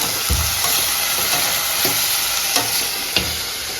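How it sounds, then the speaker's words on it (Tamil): Garlic, green chilli and tomatoes sauté in a pan with a loud, constant sizzle up close, punctuated by a few sharp spatula taps and stirring scrapes. "இது ரெண்டு தக்காளி அதையும் நல்லா வதக்கி கொடுத்துடலாம்"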